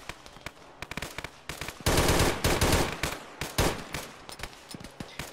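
Machine gun fire in Arma 3 during an airborne counter-insurgency operation, with sharp short bursts and single shots, one dense sustained burst near the middle, close and loud with no talk over it.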